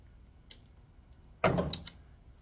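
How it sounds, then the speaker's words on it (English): Impact wrench bursts on Harley-Davidson clutch cover bolts during an extra-disc clutch install, a short tick near the start, then a loud rattling burst of about half a second with a brief follow-up, close by. "get the wrench working right."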